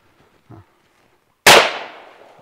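A single sharp rifle shot cracks out during an Assam Rifles training drill, loud and close, with a decaying tail, after a faint brief sound and silence.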